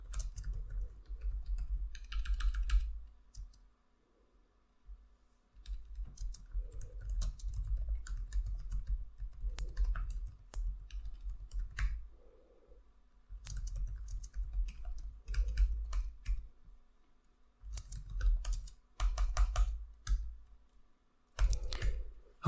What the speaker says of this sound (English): Okay, we had to type some commands